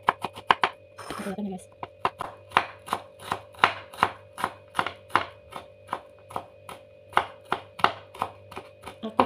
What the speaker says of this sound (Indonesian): Kita potong dulu bawang putihnya.